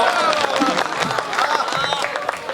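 Applause from the audience for a poet at a Hindi comedy poetry gathering (hasya kavi sammelan): dense, steady clapping mixed with crowd murmur and a few voices, sustained throughout.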